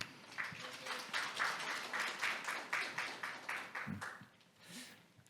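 Audience applause fills a room at a Korean government project interim report meeting, a steady wash of many hands clapping with regular surges that fade out over about five seconds.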